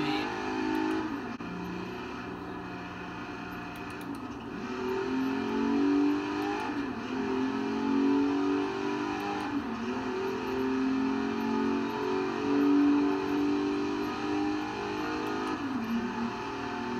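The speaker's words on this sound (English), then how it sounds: "just turn it up so you guys can actually hear the truck" A truck engine in a racing video game, a fast ten-gear truck, revs continuously, its pitch climbing and easing back as it accelerates, with no talking over it.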